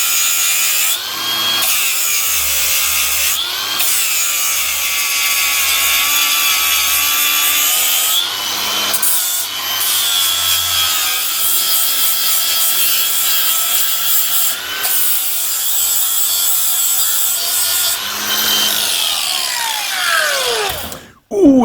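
Metal file stroked steadily across a workpiece clamped in a vise to flatten it, a long run of close, loud rasping strokes with short pauses between bursts, no talking.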